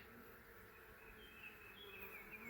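A steady, dense buzzing of many honey bees in an opened hive as a frame is pried off, soft and continuous with no pauses, like a busy swarm heard up close.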